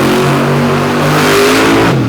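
A monster truck engine revs loudly and steadily at a Monster Truck Throwdown event in Tennessee, a dense continuous roar holding for about two seconds with no talk over it.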